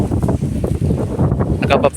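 Wind buffets the microphone in gusty rumbles on a farm with dry, cracked ground, with a voice talking briefly over it.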